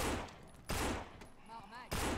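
Gunfire in the zombie shooter No More Room In Hell: loud bursts of automatic fire at the start, middle and end, separated by quieter stretches with a voice shouting in between.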